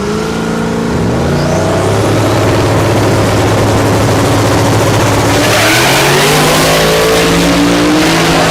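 Drag race cars launching at Thunder Valley in Noble, Oklahoma, including a Pontiac GTO in the right lane, loud, close engine roar with pitch sweeping upward as the cars accelerate hard down the strip, with a second surge of revving later.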